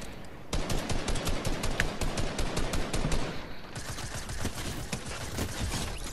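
Rapid shotgun and SMG gunfire in Fortnite Chapter 2 Season 5, a dense run of sharp repeated shots that keeps going at a steady loud level with no talk over it.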